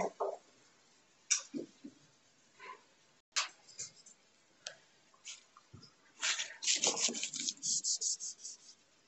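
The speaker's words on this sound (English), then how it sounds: "I can always go back in and draw more with my eraser." An eraser rubs across a pencil sketch on sketchbook paper in short, scattered scrubbing strokes, close and fairly quiet, then quickens into a denser run of rapid rubs near the end.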